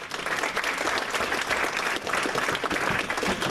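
Brief burst of steady audience applause at a geology lecture gathering, dense clapping from a room of listeners holding at an even level throughout.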